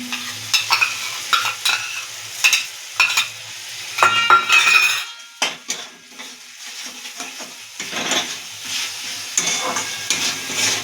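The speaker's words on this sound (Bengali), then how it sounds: "এরপর আমরা দিয়ে দেবো টমেটো কুচিটা দিয়ে একটু নাড়াচাড়া করে দিয়ে দেবো" Chopped tomato with a pinch of sugar fries in a pan of spices as a utensil stirs it, producing bursts of close scraping and sizzling with short pauses between strokes.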